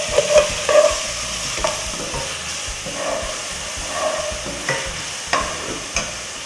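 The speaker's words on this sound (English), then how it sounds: "A quick stir." Garlic paste fries in a pan with a constant close sizzle and hiss, broken by a series of short scraping stirs at irregular intervals.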